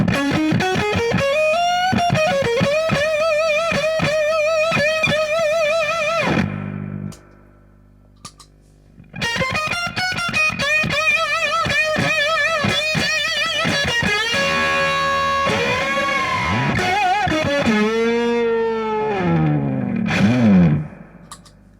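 Electric guitar played through an Octone octave fuzz pedal with the boost turned all the way up, giving a loud, saturated, buzzing tone with sustained notes and bends, broken by a short pause midway, with no talking.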